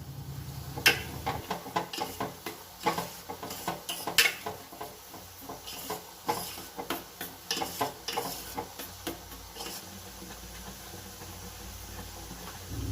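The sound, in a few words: stirring cashews into sweet pongal in a pan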